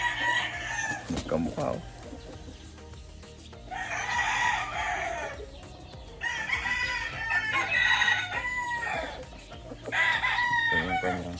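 Cardinal Kelso gamefowl roosters on a gamefarm crow repeatedly, with several loud, drawn-out crows overlapping at close range and a voice talking briefly in between.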